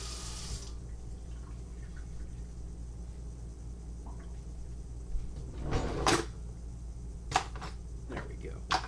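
Hot water runs steadily from a kitchen tap into a sink, a soft continuous hiss, with a cupboard or tap clunk near the start and a few knocks and splashes toward the end.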